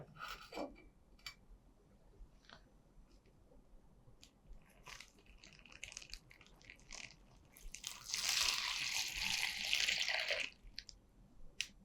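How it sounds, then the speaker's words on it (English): Water is poured from a container into a polythene tube holding a soil sample, a bright splashing gush for a couple of seconds after scattered soft handling clicks and rustles. "I need to put some water into this, all this water into the polythene tube"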